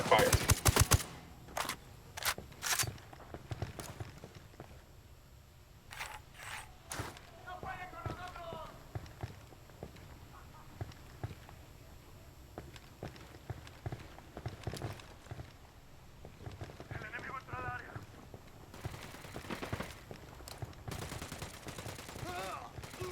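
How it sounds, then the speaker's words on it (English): Bursts of gunfire in Ghost Recon Wildlands, sharp cracks clustered at the start and again near the end, with scattered shots between, under in-game voices. "I'm opening fire."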